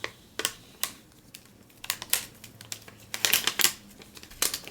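Iron-on vinyl peeled away from its carrier sheet in sharp crinkling bursts and crackles, some quick and isolated, others in denser clusters, close and fairly loud with no voices.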